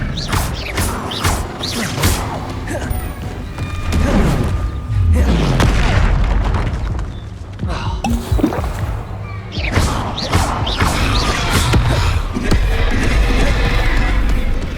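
An Expelliarmus spell cast in the Hogwarts Legacy video game plays out over loud, continuous combat audio. Whooshing magical bursts, mechanical clanks and heavy booms layer densely, with two swelling surges of energy.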